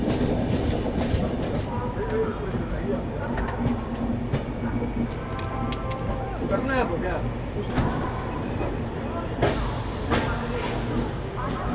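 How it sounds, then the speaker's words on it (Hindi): The Bihar Sampark Kranti Express, New Delhi to Darbhanga, arriving at Kanpur Central station, loud and close with rumbling wheels, rhythmic clickety-clack over rail joints and squealing metal, while people talk nearby. "अपनी बिहार संपर्क क्रांति एक्सप्रेस पहुंच चुकी है कानपुर सेंट्रल रेलवे स्टेशन पे"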